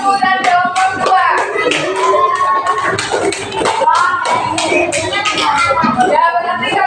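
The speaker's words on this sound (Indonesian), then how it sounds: "Tepuk tangan untuk kelompok 1 dan kelompok 2." A mixed grade 2 and 3 class of schoolchildren claps for two student groups in a classroom, with quick rhythmic hand claps close by and children's voices chattering and calling out over them.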